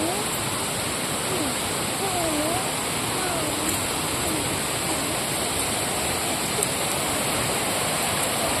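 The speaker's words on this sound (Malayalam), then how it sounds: "ഇതാണ് വെള്ളച്ചാട്ടം." A forest waterfall near rubber-farmed land pours in a dense, unbroken roar that stays even and loud, while a few faint voices and chirps sit beneath it.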